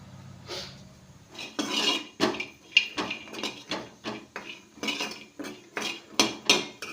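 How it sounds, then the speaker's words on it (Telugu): Dry coconut roasts in a hot pan while a metal spoon stirs it, producing a string of sharp scraping clinks and taps in an uneven rhythm, close and fairly loud. "ఎండు కొబ్బరి వేపుకుంటున్నాను"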